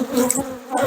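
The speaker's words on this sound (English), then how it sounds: "there's lots of bees in here" Honey bees buzzing close to the microphone at a hive box, a dense continuous drone lasting under a second.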